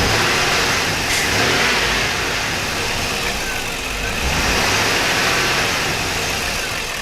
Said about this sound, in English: So what I'm going to do is give it a little gas to make sure.